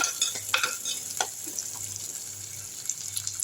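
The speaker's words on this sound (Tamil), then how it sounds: "வெங்காயம் நல்லா வதங்கிருச்சு" Onions sauté in sesame oil for a Tirunelveli-style fish curry, with a soft steady sizzle under scraping stirs and light clinks from a spoon in the pan.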